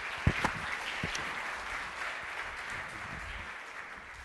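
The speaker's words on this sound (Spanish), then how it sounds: "Un aplauso para ellos, por favor." Audience applause at a Spanish investment strategy presentation, a room of people clapping steadily and loudly from the start, then slowly thinning out.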